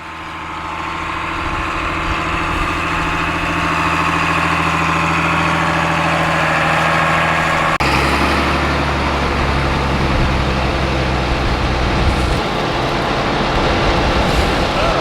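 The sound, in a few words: John Deere tractor engine running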